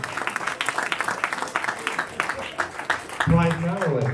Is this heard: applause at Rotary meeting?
yes